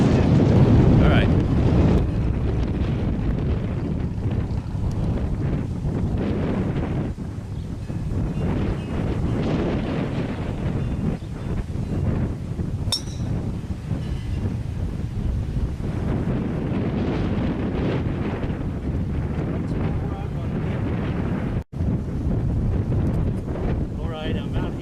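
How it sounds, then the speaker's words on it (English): Strong wind blowing across a golf course, a constant loud roar buffeting the microphone throughout with steady gusting rumble. "And the wind's right into us, so it's going to take a good hit."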